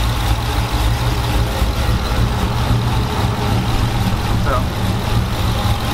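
A Ram truck engine with a newly installed cam idles on its first start with a base map, a loud, steady low-pitched rumble with a choppy, loping rhythm and no speech over it.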